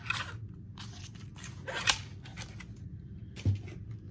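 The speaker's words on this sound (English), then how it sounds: "I have my little tiny trimmer here. Let's take off a smidge." A small paper trimmer slicing through cardstock for a handmade card, a short crisp scraping cut with light rustling and handling sounds, close and fairly quiet, no talking.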